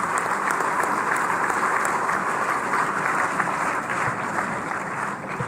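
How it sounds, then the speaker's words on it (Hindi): An audience at a welcome ceremony for an astronaut in Lucknow stands and applauds, steady crowd clapping that carries on throughout and fades slightly near the end. "सब लोग अपने स्थान पे एक बार खड़े होकर के ताली बजा दीजिए आधा मिनट के लिए"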